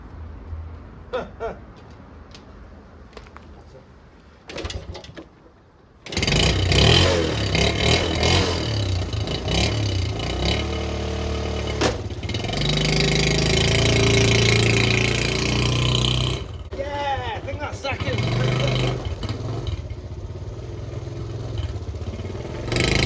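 Honda Cub C70 classic motorcycle under restoration, engine starting up with a loud throttle blip, then settling into a steady, fairly close idle with rough clattery tick-over and occasional small throttle changes, no voices.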